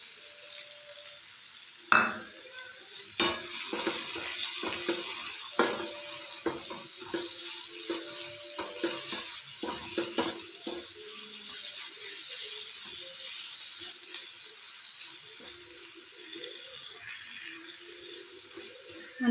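Papaya halwa is stirred with milk in a pan, giving intermittent scraping and soft wet stirring strokes over a low, quiet sizzle, with a louder clank near the start.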